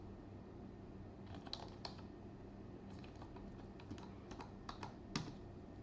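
Keys clatter on a computer keyboard in quick, uneven bursts of typing, soft and close, with short pauses between runs of keystrokes and no voices.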